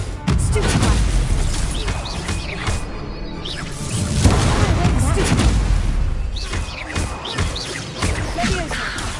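Spell blasts from Hogwarts Legacy, including Confringo and Stupefy, in a dense barrage of booms, crashes and whooshes. The impacts overlap continuously for the full length, loud and close, with speech mixed in among them.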